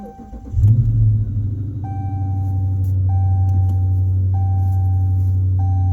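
A 2016 Dodge Charger engine, just fitted with a new transmission mount, turns over and settles into a steady, loud idle, with a soft periodic beep chiming every second or so.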